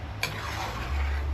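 Blood being stirred steadily in a cooking pot until it turns from red to brown, a continuous soft scraping and swishing with one brief clink near the start, close and alone.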